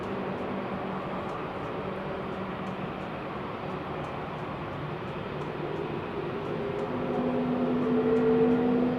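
An airliner landing at London Heathrow Airport, a steady broadband engine roar heard from a distance that swells gradually toward the end, with a faint tonal whine emerging.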